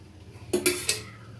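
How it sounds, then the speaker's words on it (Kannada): A couple of quick metallic clanks as a pot is set down on a stove for tempering in oil, brief and close in an otherwise quiet room. "ಒಂದು ಪಾತ್ರೆ ಇಟ್ಕೊಂಡು ಅದಕ್ಕೆ two two table spoon oil ಹಾಕ್ಕೊಂಡಿದ್ದೀನಿ"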